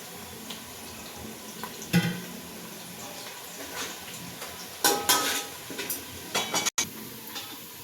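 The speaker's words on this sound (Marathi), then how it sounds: "आपण आता टाकतोय कांदा लसूण पेस्ट" Onion-garlic paste goes into a hot pan for a paneer biryani, with scattered sizzling and stirring scrapes, a few louder bursts of frying, and faint clinks of a utensil against the pan.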